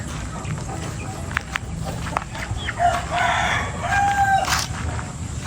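Rhode Island Red rooster crowing at a farmyard house, a few drawn-out crows with short clucks, moderately distant over steady outdoor background noise.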